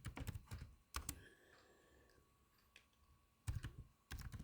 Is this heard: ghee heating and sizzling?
no